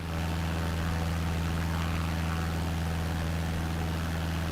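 Loud, constant drone of a small propeller airplane in flight on a West Coast trip near San Francisco, with steady engine hum and broadband rushing wind noise buffeting the cabin throughout.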